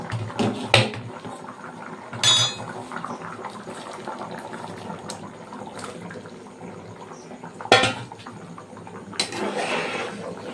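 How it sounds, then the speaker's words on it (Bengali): Raw prawns go into a pot of boiling curry with taro. A steady bubbling, liquid wash runs throughout, broken by a few sharper splashy bursts near the start, in the middle and toward the end. "এবার চিংড়ি মাছটা দিয়ে দেবো।"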